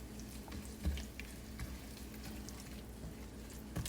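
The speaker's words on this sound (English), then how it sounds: "Okay, so you just stir it around like that" A spoon stirring shrimp étouffée in a pot, giving soft scraping and light sizzling with a few clinks, steady and close, with no voices.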